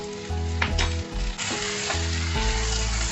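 Okra frying with chopped coriander in a pan over medium flame: a steady, loud sizzle throughout, with a few scraping stirs breaking through, close up.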